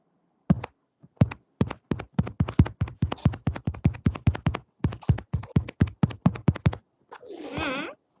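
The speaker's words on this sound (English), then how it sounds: "Someone is typing a little bit faster than me." Typing on a computer keyboard during an online maths class, a quick run of crisp key taps in an uneven rhythm, close and clear, ending in a brief scratchy rustle.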